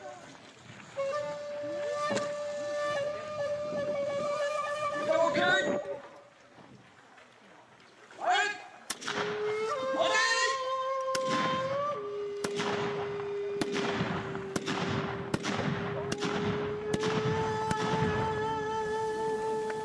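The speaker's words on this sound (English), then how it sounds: "you will see that one of the guns does go off prematurely." Matchlock guns fired in a samurai demonstration, a series of loud sharp bangs in irregular succession, mostly clustered later, over outdoor crowd ambience and sustained tonal sounds.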